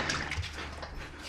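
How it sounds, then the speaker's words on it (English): Coolant pouring out of a Subaru WRX STI engine during a teardown: a steady, close liquid splash and trickle with faint gurgling across the short stretch, no voices. "told you it's gonna pee coolant"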